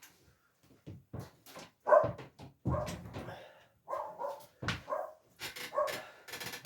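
A dog barks repeatedly nearby, a series of sharp bow-wow barks with short yips between them in an irregular rhythm, fairly quiet overall, with no talk over them.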